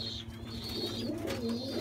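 Pigeons coo softly and continuously in a pigeon loft, low rolling calls layered close by, with a few higher chirps and light rustling and no voices over them.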